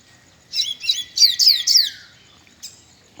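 A papa-capim pintado seedeater sings a short series of bright, rising chirped phrases, clear and fairly close, fading after about two seconds, with one more brief chirp near the end.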